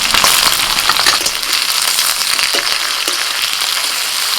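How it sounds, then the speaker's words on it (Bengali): Potatoes fry in a pan of hot oil with chopped tomato and ginger paste, a loud, steady hiss and crackle running throughout, with a few soft stirring clicks and no voices. "আলুটা একটু ভাজা হয়ে গেছে এবার দিয়ে দিচ্ছি টমেটো কুঁচি আর দিচ্ছি অল্প একটু আদা বাটা"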